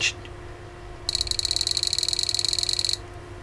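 Oscillator on an electronic kit from China chirping, a fast pulsing high-pitched trill lasting about two seconds over a faint steady hum, after a brief click at the start.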